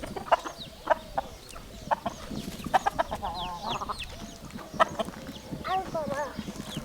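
Farmyard chickens cluck and squawk in short, scattered bursts as they are chased, close by, with voices talking intermittently among them.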